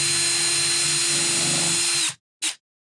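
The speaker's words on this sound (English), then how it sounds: "let's go ahead and screw for the drill holes. Pilot." A Ryobi power drill runs steadily for about two seconds drilling a pilot hole in wood, then stops, followed by a quick short burst of the drill spinning again.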